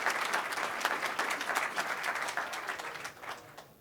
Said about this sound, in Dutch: applaus nog een keer voor het personeel.